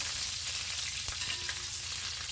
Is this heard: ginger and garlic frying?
yes